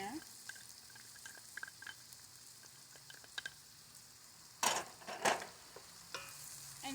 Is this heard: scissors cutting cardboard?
no